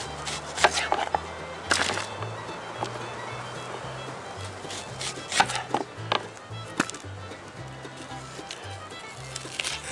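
A knife chopping an onion on a board at an outdoor campsite, irregular close taps and cuts, with soft ambient rustle around them.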